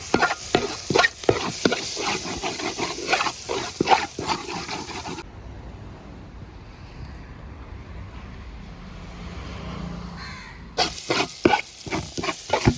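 Pepper powder and garam masala are stirred into masala frying in a pan for mutton kurma: a spoon scrapes rhythmically and close over steady sizzling, then quiet frying alone before the stirring resumes.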